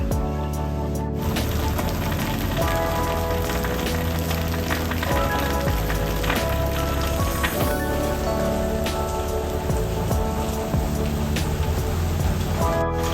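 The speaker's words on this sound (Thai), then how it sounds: "ฝนตกหนักจัดครับ" Heavy rain pounds down steadily in Thailand, a dense, loud, continuous hiss and patter of drops on hard surfaces close by, with no voices.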